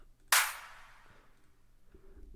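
A single crisp electronic clap snaps once, bright and sharp, then fades quickly into near silence.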